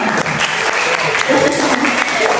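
A short, steady burst of applause from a seminar audience after a talk on academic procrastination, dense clapping throughout with no break.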